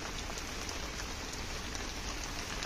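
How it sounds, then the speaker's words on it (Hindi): Heavy rain pours steadily, a dense hiss of drops striking surfaces nearby with no pauses. "बहुत तेज बारिश हो रही है"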